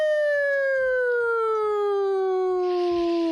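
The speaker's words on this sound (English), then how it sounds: "You can hear sirens." A police siren wails steadily, its pitch sliding slowly downward, loud and close, with a burst of noise near the end.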